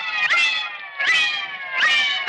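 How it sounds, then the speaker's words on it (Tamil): A cat meows three times in a row while drinking milk, each call loud, close and drawn out, with short pauses between them and no voices. "நான் குடிக்க வேண்டிய பாலை பூனை குடிச்சுக்கிட்டு இருக்கு?"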